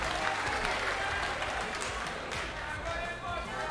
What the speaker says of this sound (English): please show these both boxers, a big round of applause for a fantastic bout